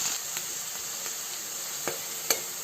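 Onions frying in a pan after garlic has browned, a soft continuous sizzle with a few sharp crackles and spatula taps, close and alone.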